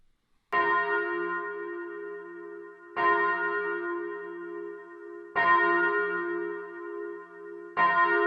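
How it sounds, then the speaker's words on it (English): Church-like bells ring in slow, evenly spaced strokes, each one long and resonant and left to fade before the next, opening a stage performance of the Hunter x Hunter musical on a darkened stage. "the sound of bells pulls our focus to a darkened stage"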